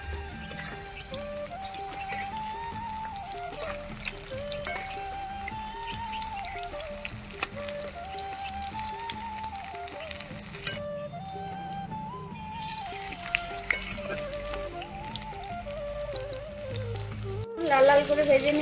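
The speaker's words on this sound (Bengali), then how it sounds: "লাল লাল করে ভেজে নিয়েছি, তুলে নিচ্ছি।" Chicken pakora deep-frying in hot oil gives a continuous soft bubbling sizzle, with background music running over it and a few clatters near the end.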